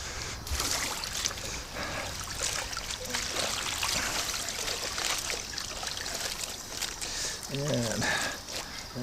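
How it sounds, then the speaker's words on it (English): A garden hose runs continuously into a tub of cooling water at an outdoor vegetable garden, making a steady trickling splash throughout while a person talks over it. "this is the cooling tub of water, which has a garden hose continuously running"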